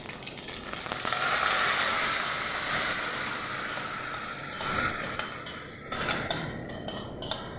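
Spices such as mustard seeds and cumin crackle in hot oil as the tempering is poured into chutney, a steady close sizzle with light clinks of a utensil stirring.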